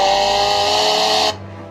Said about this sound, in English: Chainsaw running.